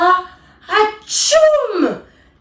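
A voice imitates a dragon's sneeze: a sharp gasping intake, then a loud, breathy, whooshing burst that falls away, as if blowing out a huge flame.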